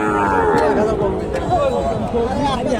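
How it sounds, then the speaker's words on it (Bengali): At a busy cattle market selling Friesian heifers, cattle low in drawn-out, wavering calls, heard close over a steady background of crowd chatter and voices. "তারই হাটে উন্নত জাতের ফ্রিজিয়ান বোকনা গরুগুলো উঠে থাকে"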